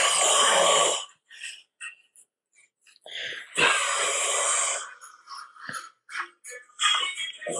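Snoring played back from a phone recording, a few rough, loud snorts and wheezy breaths in irregular bursts separated by short silences.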